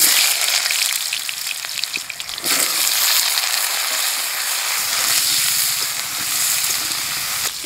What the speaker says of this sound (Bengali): তেল গরম হয়ে গেছে, আলু ভাজিয়ে নেব